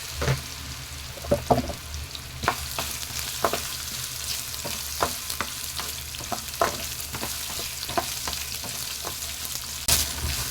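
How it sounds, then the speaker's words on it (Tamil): Raw plantain sautéing in a pan, a soft continuous sizzle broken by regular clicks and scrapes of a spatula stirring, close and fairly quiet with no talk. "வாழைக்காயை லேசா வதக்கிட்டு"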